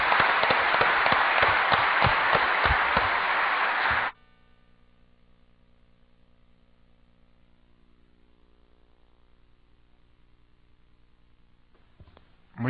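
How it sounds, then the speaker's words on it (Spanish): Audience applause greets Jorge Veraza at a book presentation, with loud, dense clapping for about four seconds before it stops abruptly, leaving near silence and a faint hum until a brief sound at the very end. "los recibiremos con un buen aplauso a Jorge"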